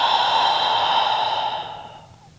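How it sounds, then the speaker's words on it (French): A long, steady breath is pushed out through an open mouth during a relaxing yoga session, a close airy hiss that holds for about two seconds before fading away. "On ouvre la bouche, on expire par la bouche."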